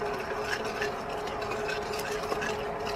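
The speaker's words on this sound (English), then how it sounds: "So this is for the Singapore noodles. Let's give it a good stir." Singapore noodle sauce being stirred, a steady scraping swirl with faint clinks, continuous and close, with no talking.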